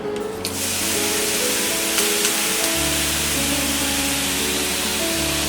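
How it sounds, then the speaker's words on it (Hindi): Water sprinkled onto a hot dosa pan hits it with a loud, continuous hissing sizzle that fills the clip, over a low steady hum. "अब हम इसमें थोड़ा सा पानी छिड़केंगे।"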